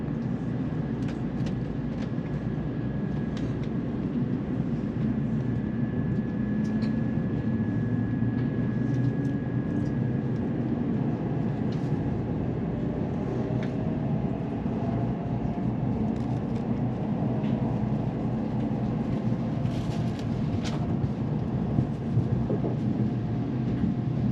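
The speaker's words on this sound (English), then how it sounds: "today we are riding the Nozomi, which is the fastest of the Shinkansens here in Japan" Nozomi Shinkansen bullet train at a station in Japan, a steady loud rumbling roar that holds evenly throughout, with a faint high whine and scattered clicks over it.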